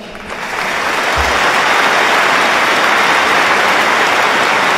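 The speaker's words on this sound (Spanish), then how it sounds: "Ovación histórica a la princesa Leonor en Zaragoza" A large crowd in Zaragoza gives Princess Leonor a sustained ovation after her speech at the ceremony naming her an adopted daughter. The applause swells quickly into a loud, unbroken roar like heavy rain and holds steady without talk.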